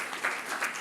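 A short burst of audience applause greets entrepreneur Sébastien Forest at a business event, a dense wash of clapping that swells twice within a second.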